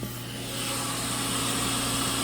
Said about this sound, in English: The exhaust fan on this works pretty well